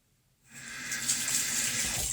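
A tap starts running and water splashes steadily onto a cold process soap bar at a sink, fading in from silence to a close, continuous gush.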